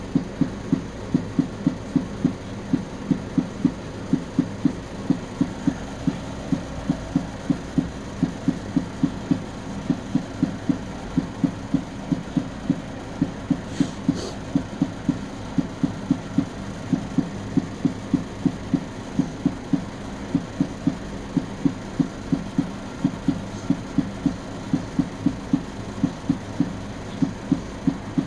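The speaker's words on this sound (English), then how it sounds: "the sound you hear is more panels being printed" A 3D printer printing plastic panels runs continuously nearby, its motors pulsing in a fast, steady rhythmic thump over a low mechanical hum, with no voices.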